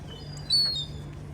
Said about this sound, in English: A couple of seagulls here on this car.